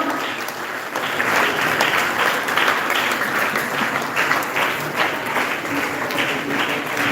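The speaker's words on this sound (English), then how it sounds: "Keep clapping, people." A crowd at a Save Soil gathering claps steadily and loudly, a dense sustained wash of applause lasting the whole stretch without letting up.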